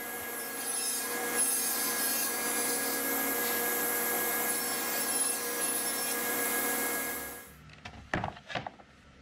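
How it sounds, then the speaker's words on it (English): A track saw running steadily through wood panels for a cabinet build, a loud continuous whining motor with cutting noise that stops abruptly, followed by a few close thunks and knocks of handling wood. "I used that track saw just to make sure that I had each piece completely square"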